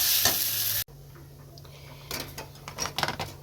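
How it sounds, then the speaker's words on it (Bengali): Potatoes fry in a pan with a loud, bright sizzle that cuts off abruptly. Softer frying continues after it, with a run of close clinks and scrapes from stirring. "এখানে আলু ভাজা হচ্ছে"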